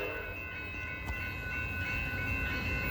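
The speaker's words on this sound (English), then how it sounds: "Here comes Amtrak Capital Corridor Train 538" Amtrak Capitol Corridor passenger train with a cab car leading and an SC-44 locomotive, passing nearby with a loud, steady rumble and roar and a sustained tonal whine over it.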